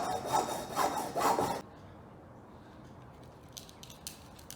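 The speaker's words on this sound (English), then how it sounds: "I'm basically just going to saw the ends off of each one where they're supposed to be sawed at" Handsaw rasping through the ends of boiled, cleaned turkey wing bones, three loud back-and-forth strokes up close, then a quiet stretch with a few faint light scrapes.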